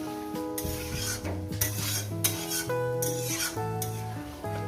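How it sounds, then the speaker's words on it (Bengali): Lote fish curry being stirred gently in a pan: close, rhythmic scraping and rubbing of a utensil over the pan, with a light sizzle beneath. "এবার এটাকে আস্তে আস্তে করে এইভাবে নাড়তে থাকবে"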